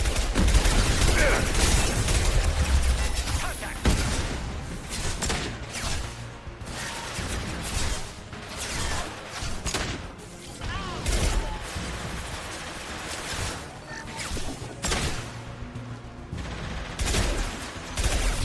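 Combat in Mass Effect 2 brings dense, loud bursts of gunfire and impacts that stack up almost continuously, with short lulls between heavy volleys and a busy, crashing battle backdrop.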